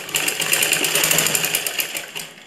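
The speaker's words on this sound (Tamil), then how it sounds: "அந்த மடிப்புல இருந்து ஒரு தையல்" A sewing machine stitches a dart at the armpit fold of a ladies' blouse, a steady close mechanical whir with quick rhythmic needle beats running through the whole moment.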